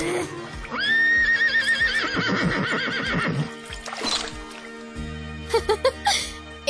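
A horse whinnies loudly with a long wavering neigh, followed by hoof clip-clop and trickling water sounds amid music in a dubbed animated pony film.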